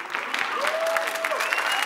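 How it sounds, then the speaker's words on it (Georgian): A studio audience at a Georgian television talk show applauds in a thick, sustained burst of clapping, with a voice briefly calling out over the noise. "შეწყვიტეთ ტაში"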